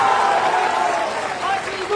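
Audience applause at a political party rally in Bihar, a dense, steady wash of clapping at even loudness throughout, with voices mixed in under it.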